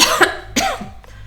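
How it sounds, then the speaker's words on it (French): A woman coughs two or three times at close range, short harsh bursts in quick succession, with no talk over them. "attendez, je tousse"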